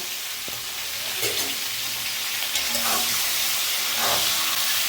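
Prawns fry gently in a pan of hot oil that has been salted to curb spattering, giving a steady broad sizzle with a few soft stirring knocks close by.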